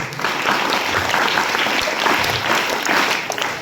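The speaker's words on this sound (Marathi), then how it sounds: "इतक्या जोरात टाळ्या वाजतात" An audience at a public event bursts into loud, dense clapping that holds steady for several seconds, close and filling the room, with no voices on top.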